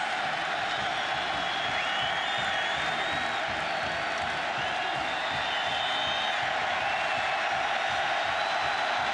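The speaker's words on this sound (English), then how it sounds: "Crowd comes to life, beckoning the defense to stand tall" Football stadium crowd at a Tennessee versus LSU college game roaring loudly and continuously, a thick sustained wall of cheering with scattered whistles and whoops across the whole stretch.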